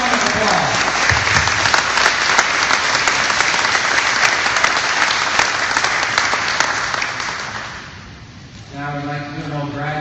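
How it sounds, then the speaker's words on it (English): Crowd applause for a giveaway winner at a Mustang event, loud and sustained clapping for about eight seconds that fades out, followed by a voice speaking. "let's give him a big round of applause"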